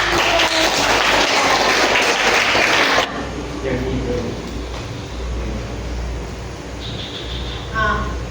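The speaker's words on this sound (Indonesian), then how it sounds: "Oke, tepuk tangan." Classroom of students applauding, a loud, dense burst of clapping for about three seconds that cuts off abruptly, followed by low room noise and faint voices.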